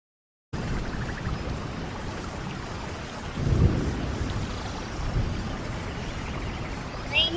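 Steady rain pours down with a soft hiss while thunder rolls through in a low rumble partway in, then the downpour carries on, fairly quiet overall.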